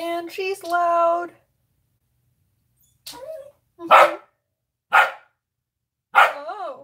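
A small dog barks in short, high yips, several sharp barks spaced apart after a whiny opening, close by and alone.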